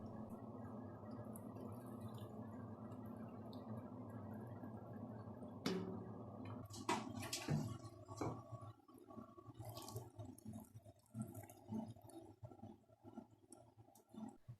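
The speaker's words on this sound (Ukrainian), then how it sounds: "Тепер заливаємо патісони гарячим маринадом до самого верху." Hot marinade poured into glass jars packed with pattypan squash, a steady wet pouring wash that gives way to irregular splashes, drips and light knocks against the glass, close and fairly quiet.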